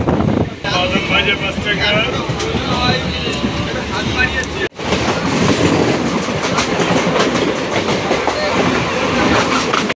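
A Kolkata suburban train from Sealdah to Prinsep Ghat rumbles along the tracks in rain with rhythmic clickety-clack, loud and close, with wind noise and a brief dropout midway.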